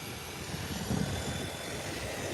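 American Airlines plane climbing away after takeoff, a brief distant engine rumble that swells slightly midway and stays steady.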